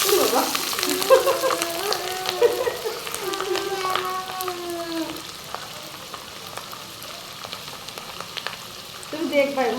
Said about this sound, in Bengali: হ্যাঁ, গরম হয়ে গেলে ঢেলে দাও। হ্যাঁ, তেল ছিটা করবে কিন্তু।